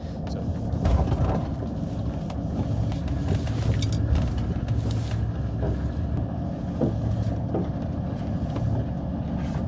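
The diesel engine of a 1983 Mercedes-Benz 300 SD runs steadily at idle, a loud, continuous low rumble with some clattering and wind buffeting on the microphone.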